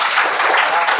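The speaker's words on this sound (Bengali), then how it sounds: "আরেকটা বড় জোরে করে তালি চাই," An audience claps loudly, a dense and even wash of applause at the close of a business talk. It stays steady for about a second.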